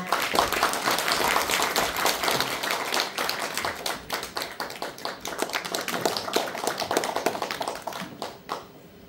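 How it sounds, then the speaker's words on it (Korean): An audience at a welfare forum in a Dongducheon lifelong learning center performance hall welcomes a speaker with sustained, lively hand clapping that thins out and fades near the end. "앞으로 나오실 때 큰 박수로 환영해 주시기 바랍니다"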